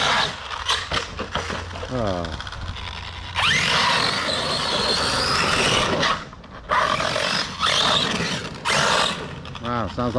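A Traxxas Sledge RC truck with a damaged drivetrain roars and rattles in loud, sustained bursts with brief pauses, a coarse mechanical buzz broken by short revving sweeps, with people speaking at moments.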